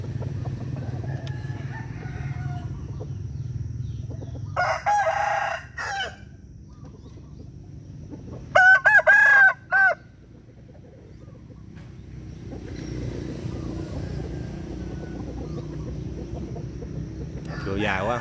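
Fighting-cock roosters crow in several loud, drawn-out calls near the middle, with softer clucking and yard noise around them and a steady low hum underneath.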